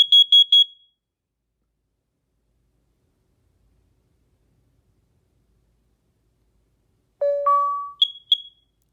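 A combination smoke and carbon monoxide alarm sounding during a self-test: a quick burst of four high shrill beeps, a long pause, then a lower two-tone chime followed by two more high beeps, loud and close.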